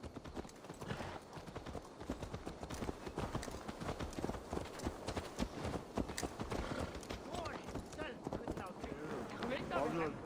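Horse hooves clop at a steady walking rhythm in the video game Assassin's Creed Valhalla, close and continuous throughout, with background game sound and voices mixed in.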